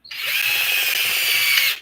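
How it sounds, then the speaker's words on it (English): A power drill bores a hole in an Arrma RC car part, one close, loud, steady high whine lasting under two seconds that starts and stops abruptly. "See, if not, I can always drill it."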